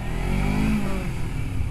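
A motorcycle engine revs hard under throttle on a German street, a loud, close, continuous roar that swells and then settles back.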